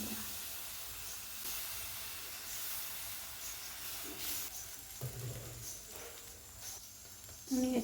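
Dosa batter sizzling on a hot pan for a homemade crispy dosa, a steady, fairly quiet hiss that runs throughout with small crackles, no voices.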